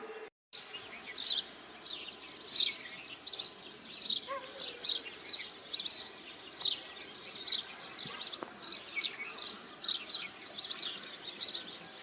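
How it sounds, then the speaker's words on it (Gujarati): Many sparrows chirp and tweet busily in a steady, overlapping morning chorus, bright and fairly close, with faint background ambience and no talking. "મસ્ત મજાની સવાર પડી ગઈ છે ને એ સવારના જો ચકલા બોલે છે"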